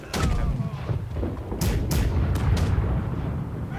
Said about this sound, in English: Port side cannons are good.